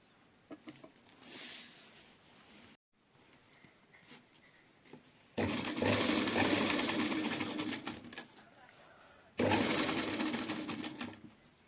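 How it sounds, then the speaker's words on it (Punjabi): A sewing machine stitches lace onto a chunni in loud, steady runs, pausing briefly between bursts, with chickens clucking faintly in the background. "ਇਹ ਸਲਾਈ ਬਿਲਕੁਲ ਆਪਾਂ ਆ ਕਟਾਂ ਦੇ ਨਾਲ ਨਾਲ ਲਾਉਣੀ ਹੈ"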